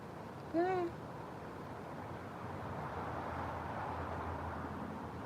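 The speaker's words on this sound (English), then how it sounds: "My cat." A cat lets out a single short, close meow over steady background hum, then the room stays quiet.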